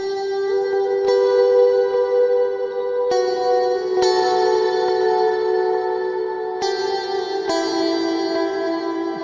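Sustained electric guitar notes played through a Zoom G5n multi-effects patch fade in softly and overlap, drenched in long echoing hall reverb that forms a shimmering ambient wash, with no talking.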